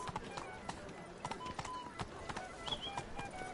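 Hooves of Roach, the horse in The Witcher 3: Blood and Wine, clip-clopping at a run in quick irregular beats, fairly faint under game music and ambience.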